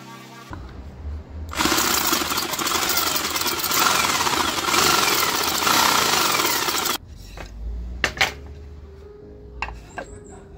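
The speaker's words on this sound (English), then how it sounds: "Time to do some more sanding." A power sander roars loudly against wood for several seconds, a dense abrasive buzz, then cuts out leaving scattered handling knocks.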